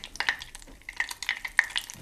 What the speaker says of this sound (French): Écoute-le chanter dans la casserole.